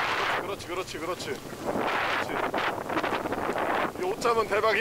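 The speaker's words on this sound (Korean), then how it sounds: "바람 소리 들리시죠?" Strong gusty wind during a heavy rainstorm at a lake buffets the microphone in rough, surging roars while people talk over it.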